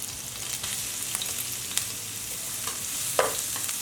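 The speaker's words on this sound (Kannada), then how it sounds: "ಸ್ವಲ್ಪ ಫ್ರೈ ಮಾಡ್ಕೊಳ್ಳೋಣ" Finely chopped ginger and garlic fry in oil for street-style veg fried rice, giving a steady hissing sizzle with occasional stirring scrapes and one louder clatter near the end, close with no talk.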